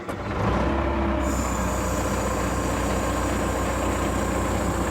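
A GQ Nissan Patrol trayback ute engine idles with a steady low rumble, while a continuous high hiss sets in about a second in as air brake pressure builds, close and loud with no talk.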